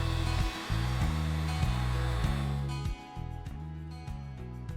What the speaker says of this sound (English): it's time to start heating the face of the decking and slowly bend it over